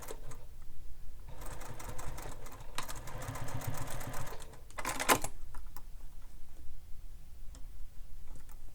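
A sewing machine stitches the first row on a Bella Bag in short bursts, with a longer run in the middle and brief pauses between, close and steady.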